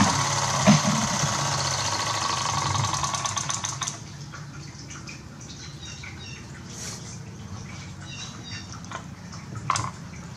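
Small Mamod Brooklands Roadster toy steam engine chuffing and hissing rapidly as its fuel runs out, then slowing and fading to quiet ticks, drips and faint clicks.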